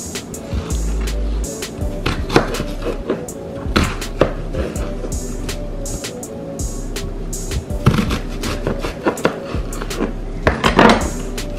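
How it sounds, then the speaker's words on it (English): Vegetables for oven-style Jamaican jerk chicken are chopped with a knife, a loud close series of irregular sharp knocks on a cutting board with some clinking of kitchen utensils, running throughout. "I will chop the veggies."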